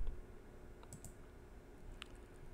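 A few soft, sharp clicks sound against a quiet background, spaced apart like a computer mouse being pressed while working in Photoshop.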